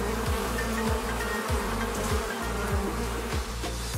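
Steady buzzing of bees inside a maze connected to the hive, a dense humming drone close by with a faint rhythmic knocking underneath, no voices.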